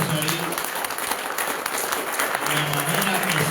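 Church congregation applauding in praise to God, a dense continuous wash of clapping with voices and some tonal sound mixed underneath.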